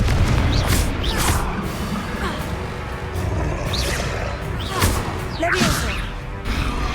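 Spell combat in Hogwarts Legacy with the fiery Confringo blast: several sharp whooshing bursts and booming impacts in quick succession over a busy battle bed, with voices nearby.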